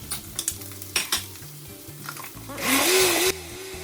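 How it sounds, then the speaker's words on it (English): A kitchen blender whirs loudly for about a second, blending chili pepper, oregano, thyme, cilantro, brown sugar, beef bouillon, liquid smoke and bay leaf for crock pot barbacoa, after a stretch of clinking and stirring noises. "So all the ingredients are getting evenly blended in the blender."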